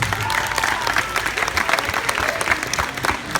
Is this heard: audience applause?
yes